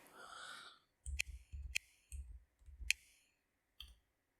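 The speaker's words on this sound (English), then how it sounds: "Here I'm using the cursor keys. I can go up and down." Cursor keys on a Bluetooth keyboard used to navigate an Amazon Fire TV interface, giving a few separate, sharp plastic key clicks with short pauses between them, close and fairly quiet, with a brief breathy sound at the start.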